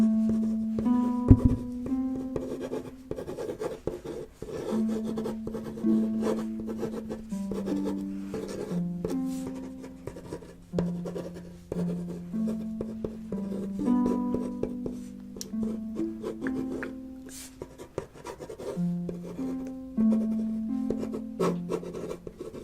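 Pen scratching and scribbling across paper in a close, quiet setting, with steady strokes and brief pauses throughout, under soft background music.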